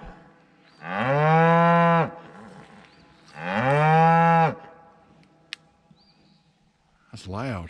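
Several cows on a farm low loudly, two long drawn-out moos close by with a pause between, then a third starting at the end, over a quiet background.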